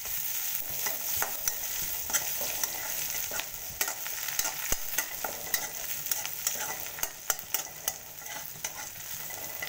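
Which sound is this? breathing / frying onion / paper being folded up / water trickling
frying onion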